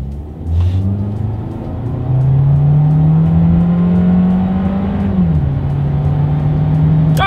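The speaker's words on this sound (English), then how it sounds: "let's do a quick little acceleration test" A 2020 Volkswagen Jetta accelerating hard on a straightaway, engine note rising loudly and steadily from inside the cabin, then a brief dip at the upshift before pulling on at a steady drone.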